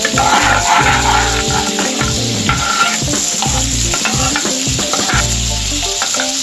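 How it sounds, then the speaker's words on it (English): Garlic sizzles loudly in butter in a pan while being stirred for beetroot rice, with steady frying hiss and scraping stir sounds throughout and no voices. "Now we will add garlic in it."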